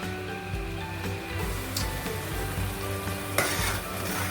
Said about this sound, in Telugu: ఇది ఇలా యాగుతుంది.